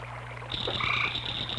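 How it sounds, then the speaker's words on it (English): Cricket frogs and tree frogs call by a river, a dense chorus of trilling croaks that swells partway through and continues steadily, close and clear over a low background hum. "the subtle melodies of cricket frogs and tree frogs"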